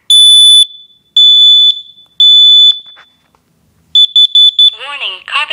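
A Kidde NightHawk smoke detector sounds its test alarm: three long, loud piercing electronic tones, a pause, then a quick burst of shorter beeps, with a synthetic voice starting up at the end.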